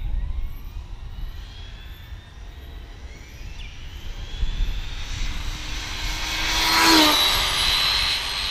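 An Arrma Limitless RC car runs at wide open throttle, its high electric whine building and sweeping past in a loud Doppler-shifted pass, heard alone over outdoor ambience.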